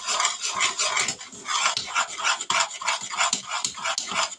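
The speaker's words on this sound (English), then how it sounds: "Now we're going to keep stirring." A spoon stirring thick peanut butter fudge mixture in a pot, rhythmic scraping and sticky rubbing strokes repeating about twice a second, close and alone.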